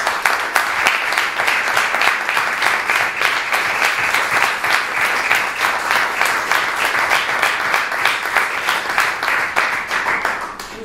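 Council members at a municipal council session clap together in sustained applause, a dense, steady patter of many hands lasting throughout and tapering slightly at the end, with no speech over it.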